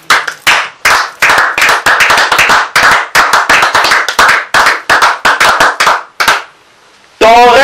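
A congregation at a French-language prayer service bursts into loud, rhythmic clapping for several seconds, close and dense, then breaks off, followed by a brief voice.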